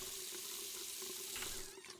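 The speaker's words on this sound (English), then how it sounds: "I thought I could open the fridge, but doing that turns on the faucet" A faucet runs in a steady, faint stream of water splashing into a sink in the video game Friday the 13th, heard alone with no talking.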